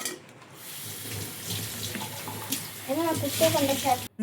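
Water runs steadily from a tap into a mixer jar, with clinks and handling noises near the end.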